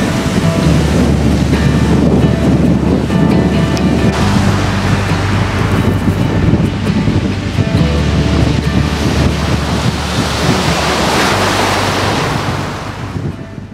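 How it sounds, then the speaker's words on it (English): Loud, strong wind roars steadily with a surf-like rush, its deep rumble constant for the whole stretch before easing slightly at the end. "Pretty windy."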